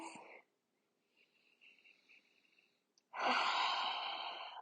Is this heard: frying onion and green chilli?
no